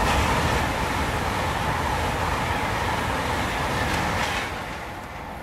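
A train at a railway station rumbles steadily and fairly loud with a dense wash of rolling noise, easing off slightly toward the end, with no voices.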